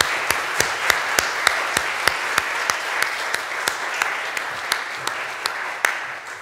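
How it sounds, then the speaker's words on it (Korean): A church congregation at a Sunday worship service gives a round of encouraging applause, a dense wash of clapping with a few sharp, close claps standing out over it. "우리 김재환 목사님과 가족들을 위해서 격려 박수하면 참 좋겠습니다."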